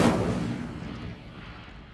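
An Incendio fire spell fires off in Hogwarts Legacy, a single sharp, cannon-like burst that flares up and then fades out over two seconds.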